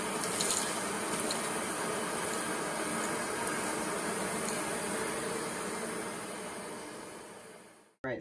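A Shark Rotator Pro upright vacuum cleaner runs on carpet, giving a steady, loud whooshing hum with faint mechanical rattling that cuts off abruptly at the end, with no talking.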